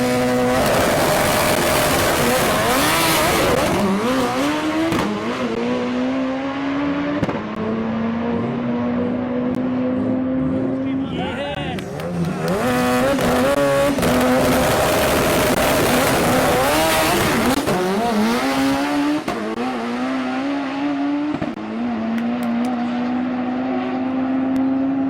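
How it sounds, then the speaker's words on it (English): A Mitsubishi Evo accelerates hard and corners, its engine note climbing through repeated rising revs with brief lifts between pulls. Loud, close and continuous, with tire noise and no talk. "just how insanely fast they accelerate or enter a corner or exit a corner"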